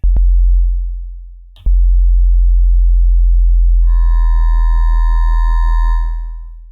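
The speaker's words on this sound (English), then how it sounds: "it becomes like a sine wave" A synthesizer LFO pushed to a very high rate so it turns into a loud, steady sine-like tone, opening with two sharp clicks before a higher, slightly buzzy harmonic layer joins partway through and the sound fades out.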